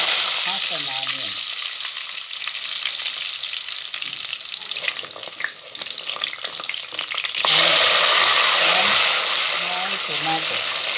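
Half an onion hits a small amount of hot oil seasoned with fenugreek for an Indian bitter gourd dish, giving steady close frying sizzle that swells louder midway, with brief stirring and a voice speaking at the start and end.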